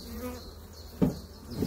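Honeybees buzz around an open beehive while a beekeeper splits a colony and prepares the neighbouring hive, a steady close humming drone with a brief knock of equipment midway.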